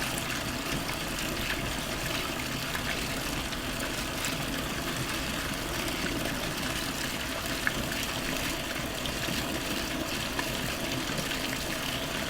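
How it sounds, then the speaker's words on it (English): Water poured to moisten filter paper in a Buchner funnel during a soap-making lab, giving a continuous soft trickling, splashing wash with no talk, steady from start to finish at moderate level. "We're going to moisten it a little bit with some water to make sure that it sticks."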